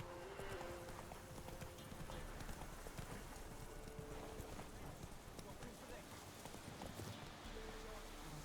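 Roach, the horse in The Witcher 3, trots with steady clip-clop hoofbeats across the whole stretch over a busy background, moderately close.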